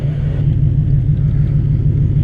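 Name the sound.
car engine racing, Skyline R33 and V8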